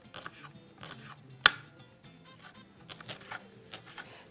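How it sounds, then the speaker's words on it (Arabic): A kitchen knife slices green onion into thin pieces on a board, giving quiet, irregular taps and crunches with one sharper click, close and soft. "بصل اخضر نقطعه ترانشات رفيعه"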